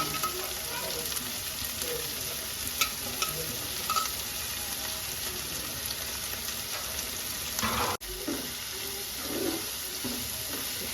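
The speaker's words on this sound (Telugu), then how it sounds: "వీటిని బాగా వేయాలి మంచి బ్రౌన్స్ లైట్ బ్రౌనిష్ కలర్ వచ్చే వరకు బాగా వేయాలి" Onions with salt frying in a pan for aloo kurma until light brown, a steady close sizzle with stirring scrapes, a brief break near the end, no talk.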